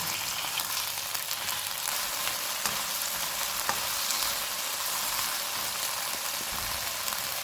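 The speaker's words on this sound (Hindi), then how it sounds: "चूल्हे को मीडियम रखेंगे, चिकन का कलर चेंज होने तक भूनेंगे।" Chicken with ginger-garlic paste frying over a medium flame, an even, dense sizzle with a few faint utensil taps, moderately loud and close, no talking.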